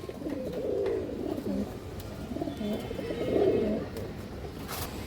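Pigeons at a pigeon sale give low, rolling coos in repeated overlapping phrases, close and moderately loud against a steady background murmur.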